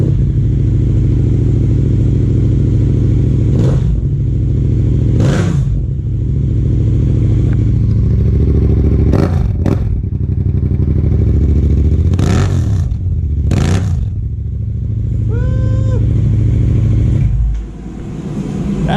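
A motorcycle fitted with a new exhaust runs loud and close, its engine idling with a steady low rumble broken by several sharp throttle blips and revs before settling back down.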